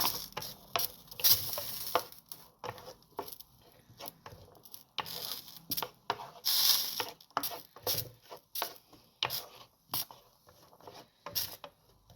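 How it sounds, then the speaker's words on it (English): Onions sauté in a pan, a quiet sizzle broken by frequent clinks and scrapes of a utensil stirring against the cookware, close and intermittent with no voices. "So the first thing we're going to do is saute the onions."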